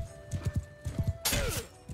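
Cavalry horses in a Robert Guiscard campaign video game, with quick clusters of hoof thuds followed by a loud, bright horse whinny near the end.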